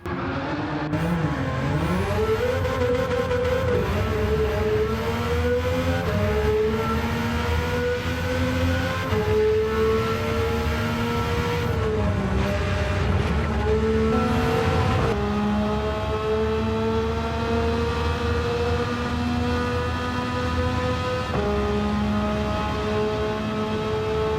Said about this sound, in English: take a listen to the R33 with 900 horsepower